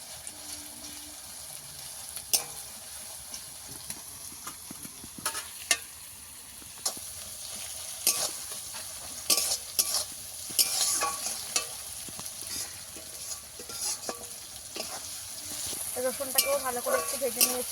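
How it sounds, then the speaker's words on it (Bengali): Garlic paste fries in a pan for a Bengali chicken and potato curry, giving a soft, continuous sizzle broken by repeated scraping and clinking stirring strokes, close but fairly quiet. "আমি এইভাবে ভেজে নিয়েছি রসুন বাটা দিয়ে দেবো"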